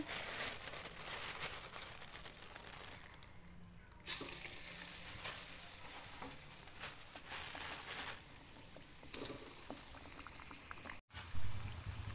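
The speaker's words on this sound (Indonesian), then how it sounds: "kemudian kita panaskan minyak kita goreng cirengnya sampai matang" Steady sizzling and crackling of cireng, Indonesian tapioca dough, frying in hot oil, a continuous hiss with small pops, close by and moderately quiet.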